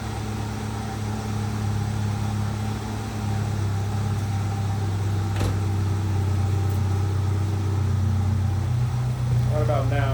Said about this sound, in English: It normally starts getting a rough idle.